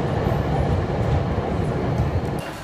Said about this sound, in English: But there's our train, so let's get on.